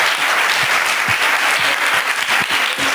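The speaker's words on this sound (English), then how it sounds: "we want to give a round of applause for our fabulous presenters" An audience at an arts and humanities grantseeking panel applauds its presenters, a loud, dense wash of clapping from many hands that carries steadily from start to finish.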